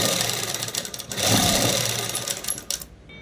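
A sewing machine stitches a blouse in a steady, fast mechanical whir close to the microphone, slowing briefly and then running on before stopping near the end.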